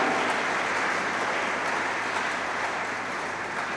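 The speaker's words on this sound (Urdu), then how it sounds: "زوردار تالیوں میں" Congregation applause during a Catholic Easter Mass in a Lahore church, a dense, steady roar of many hands clapping that fills the whole space evenly from start to finish, with no voices over it.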